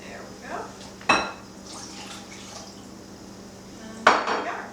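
Rum cake batter is mixed in a bowl: two sharp utensil clinks against the bowl ring out, one early and one near the end, with soft scraping and faint voices in between.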